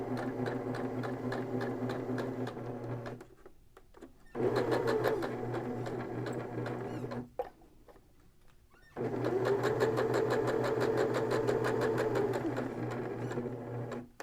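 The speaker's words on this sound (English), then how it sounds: "I'm going to stitch all the way around." A sewing machine stitches around a popcorn bag seam in long, steady bursts of rapid mechanical whirring, close and loud, with two short pauses between the runs.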